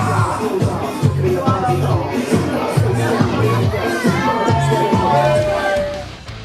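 Wrestling arena crowd cheering and shouting as a wrestler celebrates in the ring, a dense babble of voices with rhythmic chanting pulses, and a commentator talks over it.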